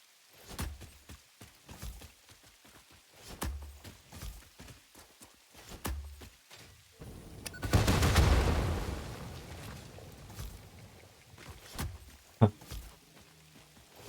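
Explosions and gunfire in a video game: sharp, scattered bangs throughout, with a louder, longer rumbling blast near the middle, all against a quiet background with no talking.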